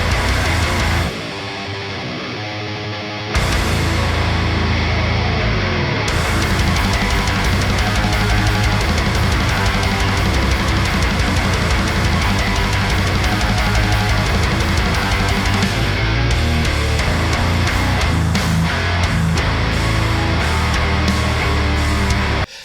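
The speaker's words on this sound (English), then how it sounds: "You could reamp the infamous Grindstein song, which sounds like this." A loud, dense heavy rock song with distorted electric guitars, bass and drums, the infamous Grindstein song used for a guitar reamping contest, playing continuously with a brief quieter intro section.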